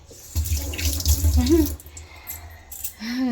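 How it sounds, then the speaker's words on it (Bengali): Tap water running into a sink while hands are washed at home, a close, uneven gushing flow that rises and falls, with a brief voice sounding over it. "চলো হাতটা ধুয়ে নিয়ে আগে"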